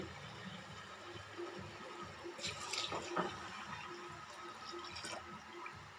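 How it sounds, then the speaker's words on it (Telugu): Water is poured from a glass onto uncooked rice in a pot, six glasses for three of rice, a steady splashing pour that swells briefly near the middle before settling back. "ఇదే గ్లాస్లోనే 3 గ్లాసులకి 6 గ్లాసులు నీళ్ళు పోయాలి"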